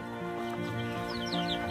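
Hens cluck softly close by, a few rising calls over a steady humming background noise.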